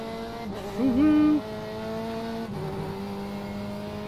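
Engine drone from LMP2 prototype race cars approaching and passing at Daytona in iRacing, a steady mechanical hum with gear changes and faint swells, no one speaking.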